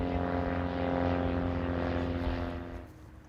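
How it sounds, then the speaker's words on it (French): A Kibitz light aircraft with its propeller engine drones steadily at close range, holding a loud buzzing tone before fading toward the end. "Pierre-Yves Tempier d'Aéro Kit Service venait en voisin ce jour-là à bord de son Kibitz."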